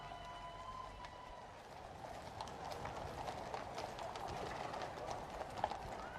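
A horse-drawn carriage passes along Horse Guards, with hooves clip-clopping in a steady rhythm over a faint crowd murmur.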